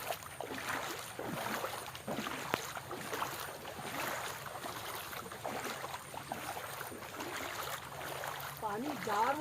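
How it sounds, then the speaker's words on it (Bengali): A boat moves over floodwater with a steady, washy churn of water and wind that lasts the whole clip, at a fairly low level. Faint voices are heard beneath it. "এই দেখো নৌকা, নৌকা নামায় দিছে"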